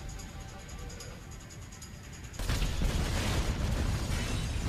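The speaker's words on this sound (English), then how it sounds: "Don't look at explosions." An explosion in Grand Theft Auto V hits halfway through, a sudden loud, broad roar that holds steady after a quieter stretch of game noise.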